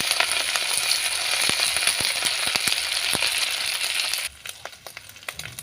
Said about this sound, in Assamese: ভালকৈ এইখিনি ভাজি লৈ